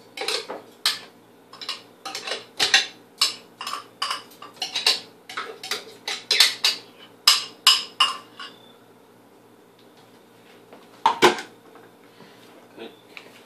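A spoon clinks and scrapes against a bowl as thick casein ice cream made with crushed ice is scooped, a long run of rapid close taps followed by a pause and a final pair of knocks.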